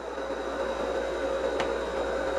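Steady whooshing airflow from a small 12V fan on a homemade Peltier mini air conditioner, with a constant hum, close and continuous, plus one brief click partway through.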